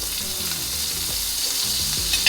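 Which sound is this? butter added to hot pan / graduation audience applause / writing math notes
butter added to hot pan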